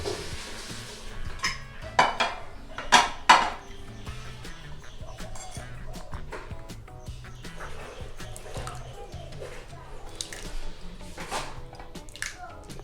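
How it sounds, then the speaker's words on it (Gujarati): Metallic clanks and rattles of a pressure cooker lid being handled and removed after boiling cracked wheat, several sharp knocks early on, followed by lighter clinks. "હવે આપણે જોઈ લઈએ કે એ ઘઉં જડ્યા છે કે નહીં એ આપણે ચેક કરી લઈએ કુકર ખોલી દઈએ"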